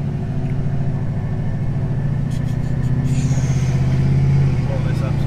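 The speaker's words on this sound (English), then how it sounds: "I know the truck is pretty loud." A truck engine runs while driving, giving a loud, steady low rumble that drones close and continuous throughout, swelling slightly near the end.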